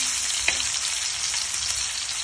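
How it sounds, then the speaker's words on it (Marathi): Prawns fry in a covered pan with a steady, even sizzle and crackle, loud and close, with no talking. "प्रॉन्स एक साईडने फ्राय झाले तर साईड चेंज करून पण फ्राय करून घेऊया. झाकण ठेवून जर आपण फ्राय केले ना तर पटकन शिजतात"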